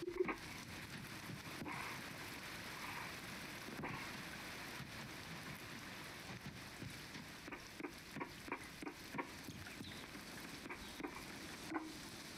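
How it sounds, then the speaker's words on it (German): Steady rainfall in the farming game Coral Island, a soft continuous patter with scattered droplet ticks running evenly throughout, without any voices. "Und es regnet noch eins."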